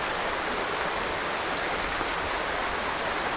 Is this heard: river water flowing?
yes